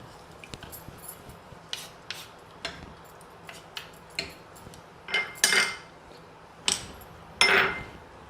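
Salt is stirred into millet pulao in a pressure cooker with a metal spoon, making a series of sharp clinks and scrapes against the pot at irregular intervals. Several louder knocks come near the end, over a quiet background.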